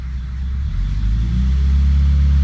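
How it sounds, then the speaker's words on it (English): A 1953 Pontiac Chieftain engine at idle swells into a steady rev when the gas is touched, a deep rumbling drone that rises and holds loud to the end. "if I touch the gas, watch gauge of the oil."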